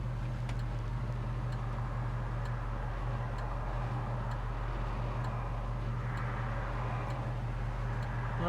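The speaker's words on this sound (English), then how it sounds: "Hear how nicely it's idling? It's not stalling out. It's not sputtering," 1967 Chevrolet Chevelle SS engine idling, a low, even rumble that holds steady and smooth with faint light ticking over it, heard alone without talk.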